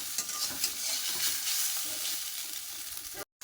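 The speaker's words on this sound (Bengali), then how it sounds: "ম্যাগি বানাচ্ছি, একটু আলু দিয়েছি আর গাজরও দিয়েছি" Maggi noodles with potato and carrot cooking in a pan make a steady close sizzle with bursts of stirring and scraping, no talk, cutting out briefly near the end.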